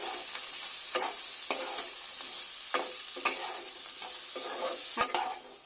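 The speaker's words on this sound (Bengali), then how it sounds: "নেড়ে নেব, বেশি ভাজবো না।" Chopped carrots and other vegetables for chow mein soup are lightly stirred as they fry in a pan, a soft sizzle broken by repeated scraping strokes of a spatula, heard close with no talk.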